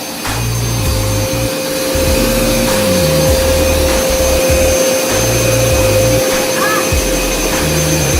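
A Hoover Smartwash automatic carpet cleaner runs loud and close as it sprays and washes carpet, a steady high motor whine with pulsing low tones as the machine is pushed and pulled.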